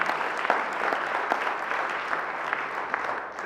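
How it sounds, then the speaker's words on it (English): Audience at a public meeting about Interstate 73 breaking into sustained applause, a dense wash of clapping that stays fairly even for several seconds with a faint voice underneath. "I want a random applause for Dan Turner"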